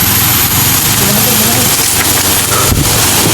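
A motorcycle engine drones and idles close by, a continuous low mechanical rumble with a little background noise on top.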